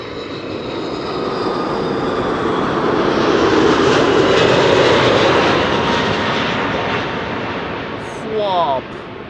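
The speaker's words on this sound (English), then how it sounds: "this is KLM flight 765 coming in from Bonaire. A330 200 PHAOB" A KLM Airbus A330-200 jet arriving at Schiphol sends a loud, broad roar that swells steadily and peaks midway before easing, with a brief rising whine near the end.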